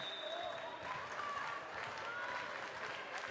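Crowd at a high school volleyball playoff match in a gym, a sustained roar of cheering and clapping that stays loud and steady throughout, with a commentator faintly audible underneath.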